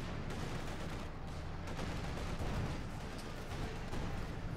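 Field guns firing away in a Company of Heroes 2 match, a dense continuous roar of artillery and small-arms fire rumbling steadily with no break.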